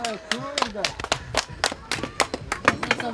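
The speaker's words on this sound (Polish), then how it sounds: "brawa dla nich." At a firefighters' day competition, spectators give scattered, uneven clapping for a volunteer fire brigade team, with distinct individual claps close by and people talking throughout.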